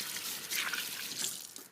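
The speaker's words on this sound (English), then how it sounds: "just wash my hands" Tap water runs steadily into a kitchen sink while hands are rinsed beneath it, a close, continuous splashing hiss with small shifts as the hands move through the stream.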